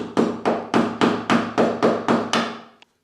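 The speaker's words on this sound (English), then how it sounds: "This is a lot of paint that's in these, and it all just needs to be hammered out." Nine evenly spaced sharp hammer taps on a screwdriver, knocking paint out of the slots of slot-head door hinge screws, close and loud, each ringing briefly before the next.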